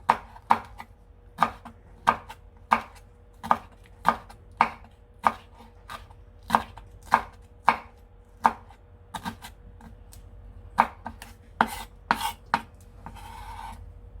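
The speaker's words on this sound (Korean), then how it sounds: "홍고추도 조금 썰어 볼게요." A knife chops red chili pepper on a board with about twenty crisp, evenly spaced knocks that are close and distinct over quiet background.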